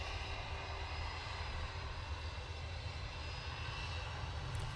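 A British Airways Airbus A319 jet airliner bound for London gives off a steady, continuous engine roar at moderate distance, with deep low rumble under a broad hiss and no clear rise or fade.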